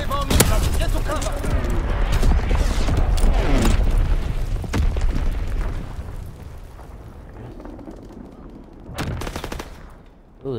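Heavy explosions from enemy bomb missiles in a combat video game, a dense barrage of booms and gunfire rumbling continuously for several seconds, then fading before a final sharp blast near the end.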